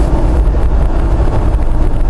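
Jeep JK fitted with an LS 5.3 V8 cruising in 5th gear at about 1500 RPM, a loud, steady low rumble mixed with road and wind noise.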